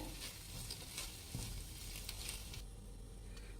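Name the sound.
stirring egg noodles with sauces in a pan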